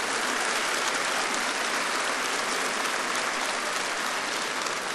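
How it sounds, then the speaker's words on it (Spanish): Big audience at the final gala of an international folk festival applauding hard, a loud, dense, continuous roar of clapping that stays steady for the whole stretch. "Un aplauso muy fuerte porque de verdad es necesario."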